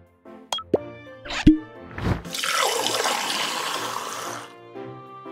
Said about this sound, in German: Füge Öl hinzu.